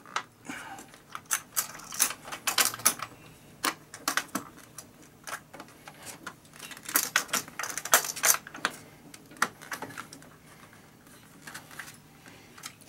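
An ADJ Dotz Tpar light being fastened onto an Event Bar Pro mount gives a run of sharp, close plastic and metal clicks and taps in irregular bursts, with no talking.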